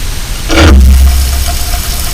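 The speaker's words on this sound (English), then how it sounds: "as soon as I flick the switch, we have the pump coming on, the LPG boiler fire up" A water pump and LPG boiler in a Renault Kangoo micro camper van switch on, giving a loud, short burst of whirring and rushing that settles into a steady low hum and drone for the rest of the moment.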